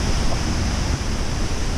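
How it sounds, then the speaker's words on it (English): A steady, close roar of falling water at the Khao Yai waterfall where The Beach was filmed, a continuous broadband rush with no pauses and no voices. "This is the actual waterfall from the movie The Beach."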